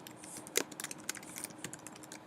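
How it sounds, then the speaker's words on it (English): Fingers type on a computer keyboard while entering text in Microsoft Word, a quick irregular run of light key clicks with one sharper strike, close and with no talking. "So I'm just going to type my name,"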